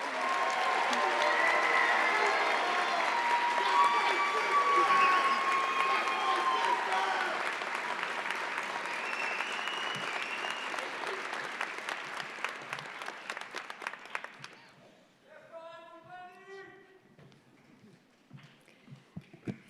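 Sustained crowd applause at a university agriculture college graduation convocation, dense clapping that gradually thins into scattered claps over about fifteen seconds, followed by a voice speaking over the fading applause.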